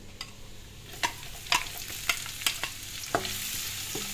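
Onion sautéing in a pan for pancit gives a steady close sizzle, and a utensil scrapes and clacks against the pan in about a dozen irregular stirring strokes. No one speaks.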